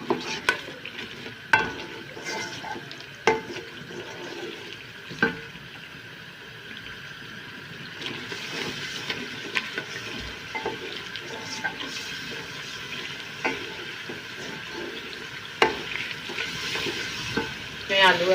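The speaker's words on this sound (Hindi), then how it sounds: "अब अच्छे तरीके से मिर्च को भून लें" Green chillies and masala frying and being stirred for an egg and potato curry, a constant hiss broken by repeated sharp spatula knocks and scrapes on the pan at irregular intervals; near, with a faint watery undertone and no clear talk.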